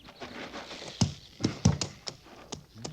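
Hooves of a horse in an army fort setting clop irregularly on hard ground, a handful of sharp near thuds over a faint background.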